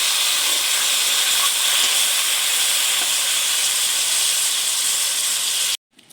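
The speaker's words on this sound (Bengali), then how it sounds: "এবারে পরিমাণ মতো জল দিয়ে দেবো।" Water poured into a pan of Malabar spinach and taro stems, producing a steady, loud hissing sizzle with no talk that carries on for several seconds and then cuts off abruptly.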